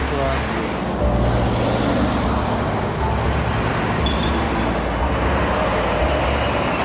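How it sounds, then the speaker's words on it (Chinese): Steady road traffic rumble from a busy roadway with many passing trucks, a continuous low drone with engine hum throughout, with people's voices audible over it. "这里确实很多车子的声音。"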